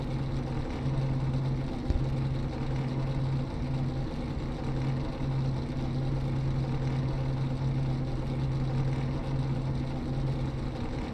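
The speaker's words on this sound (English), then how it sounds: "that is the sound of engines" Racing car engines idle together on the grid before an oval series race, a steady droning hum with a sustained low tone that runs unbroken throughout, with no talking.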